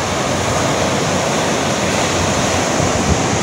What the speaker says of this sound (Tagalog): Ayun naman oh, magaspas ng dagat.